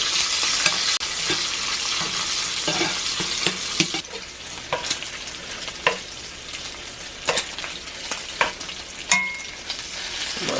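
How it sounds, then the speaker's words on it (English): Bacon frying in a cast iron pan gives a loud, close, continuous crackling sizzle, with sharp pops and utensil scrapes scattered through and no talking. "Bacon crisp up already."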